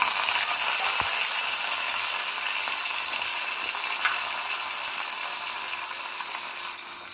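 Green chillies and curry leaves with mustard seeds and cumin sizzle in hot oil in a pan with the gas just switched off, a steady close crackling hiss that eases slightly toward the end, no voices.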